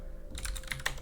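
Quick burst of typing on a computer keyboard while entering a config-file command in a Linux terminal, several close, crisp keystrokes clustered together with a steady low hum underneath and no talking.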